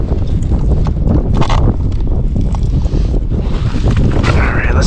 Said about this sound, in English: This wind is really messing everything up.